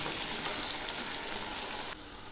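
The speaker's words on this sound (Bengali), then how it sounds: "আলু ভাজা প্রায় হয়ে আসছে" Pieces of potato fry in oil in a pan for a vegetarian jackfruit curry, giving a steady, dense hiss and crackle that stays even and close throughout, with no voices.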